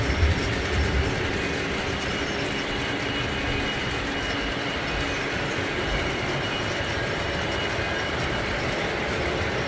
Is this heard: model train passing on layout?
yes